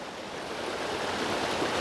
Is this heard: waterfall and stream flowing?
yes